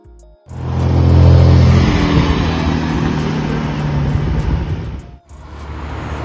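A car engine roars loudly up close, surging then holding a steady rumble, cutting out briefly before idling again.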